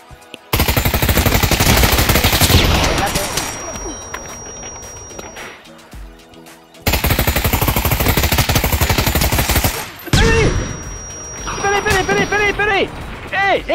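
Loud bursts of automatic gunfire in the Pavlov video game hammer in long rapid strings, broken by short pauses and mechanical clicks and clatter.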